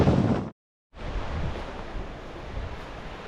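Strong wind roars and buffets the microphone outdoors in Norway while a tent is packed, loud and continuous with a short dropout near the start.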